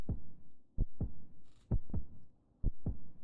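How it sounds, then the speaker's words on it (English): A heartbeat thuds in Hollow Knight Silksong, low paired beats repeating at a steady slow rhythm, close and alone with no talking. "it's making the heartbeat noise"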